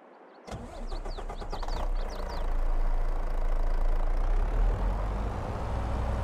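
A farm truck engine in a farming video game cranks with a brief starter whir, catches, and settles into a loud, steady low rumble close up, with no talk.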